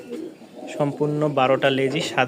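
Domestic flying pigeons in Rajshahi coo in low, throaty, repeated notes close by, with someone talking over them throughout.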